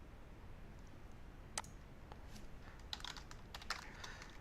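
Quiet, close keystrokes tap out a command on a computer keyboard, with scattered clicks and short bursts of typing in an otherwise silent room.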